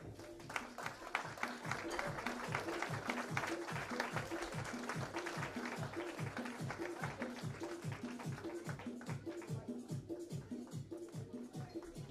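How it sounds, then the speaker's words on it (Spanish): A baptism crowd applauding: a steady, even patter of many hands clapping without a break, a little distant and moderately quiet. "que se escuchen los aplausos"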